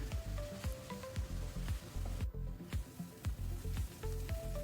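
Onions sizzle and fry in hot oil in a pan for a soyabean roast, with a steady crackling hiss and repeated scraping stirs at a close, even level, no voices.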